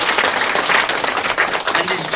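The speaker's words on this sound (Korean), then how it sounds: "환영의 박수." A church congregation applauding to welcome guests, with dense, sustained clapping from many hands filling the room.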